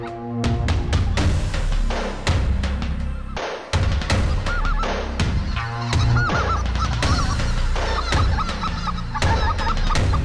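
Thousands of geese honk loudly and constantly overhead during a hunt over decoys in Arkansas, a dense, close chorus of overlapping calls with sharp bursts throughout.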